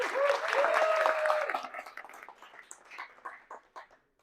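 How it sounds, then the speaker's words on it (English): A burst of audience applause after a science talk that starts full and then thins out into scattered individual claps before dying away, with a few voices briefly mixed in. "let's hear one more round of applause for Steve Bieger"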